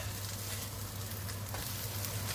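A ham and cheese omelette sizzles loudly and steadily in a pan just after being flipped, a dense close crackle with a constant low hum beneath and no talking.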